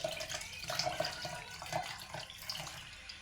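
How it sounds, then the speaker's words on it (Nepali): Water is poured into a mixer jar holding curd and cream for making ghee, a close, splashy trickle running steadily for a few seconds with small gurgles and drips. "अब यसलाई पानी पनि सँगै हाल्ने साथीहरु"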